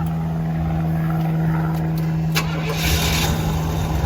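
The engine of a 1977 Pontiac Grand Prix SJ coupe cranks briefly and catches, then settles into a loud, close, steady rumble with a constant low hum underneath.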